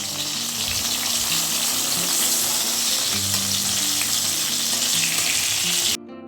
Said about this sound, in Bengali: এগুলো আস্তে আস্তে একটুখানি ভেজে নিই ভেবেছিলাম একদম অল্প তেলে ভাজবো